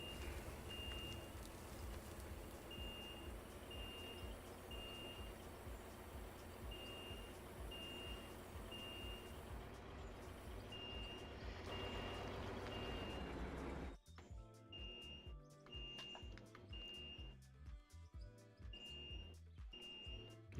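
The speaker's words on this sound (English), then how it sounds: "The apartment building's fire alarm is going off." An apartment building fire alarm chimes in a steady, repeating pattern of short, high beeps, heard over a constant rumbling background of machinery-like game noise.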